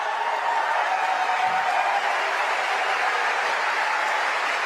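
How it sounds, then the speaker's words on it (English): A live political event audience cheering and applauding together, a steady broad roar of clapping and voices that holds loud and even throughout with no break. "You see all these people cheering in the audience?"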